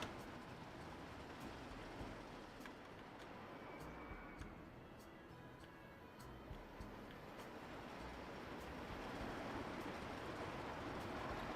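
Roller coaster train in the simulation game Planet Coaster 2 rumbles along its track as a steady, faint rolling drone with light periodic clicks, continuous and distant throughout.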